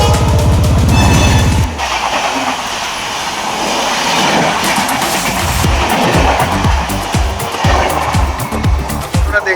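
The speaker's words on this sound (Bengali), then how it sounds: "ট্রেনের গতি তো দেখছি খুবই ভালো" A moving passenger train on a Kolkata to Digha trip, heard loud and close from on board. A steady heavy rumble carries a repeating clickety-clack of wheels over rail joints that grows more pronounced toward the end.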